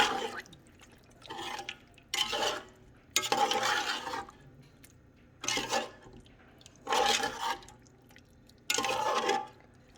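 Cooked meat being mixed with masala in a pot for biryani, giving wet, squishy stirring bursts that come in a steady series of separate strokes, close and moderately loud, with no talk.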